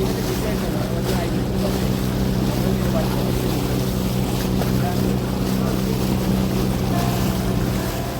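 A government passenger ferry's engine drones loudly and evenly on the backwaters at Kochi, with water rushing and wind noise alongside, and no break in the hum.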